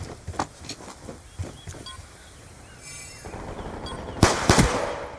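Gunfire, sharp scattered shots at moderate distance, then a louder close cluster of bangs near the end over background noise.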